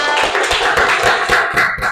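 Schoolchildren in a classroom clap in a quick, patterned rhythm, praising a correct answer. The bright, close claps come in tight bursts with no talking over them.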